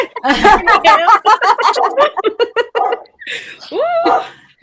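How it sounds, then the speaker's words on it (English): A dog barks repeatedly at home during an interview, with excited yips and a whining bark mixed in, loud and close, while a person keeps talking over it. "Sorry, my dog is barking ridiculously."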